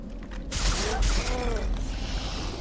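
A burst of sharp gunfire in Far Cry 3 erupts inside a mine and rings out over rumbling ambience, followed by a lingering metallic echo.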